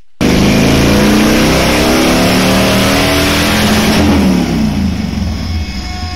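A Yamaha 1700 Warrior motorcycle engine revs hard on a dyno, loud and close, holding a sustained roar that climbs and then eases back around the middle before pulling up again.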